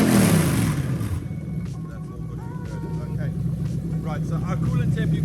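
Toyota UZ-FE VVT-i V8 fitted in a Lexus IS200 gives a quick rev from about 1,000 rpm idle, a near, loud rise that settles back to a steady idle rumble.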